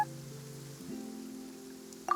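Rain falling in Genshin Impact during the Archon Quest Chapter IV Act II story, a soft, steady patter under low sustained tones, ending with a brief brighter tap.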